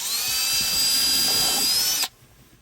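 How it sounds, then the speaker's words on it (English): A small power drill with a 1/16-inch bit whines at a high steady pitch for about two seconds drilling a small hole, then stops abruptly, leaving faint room noise. "I have a drill with a 1/16 inch drill bit on it"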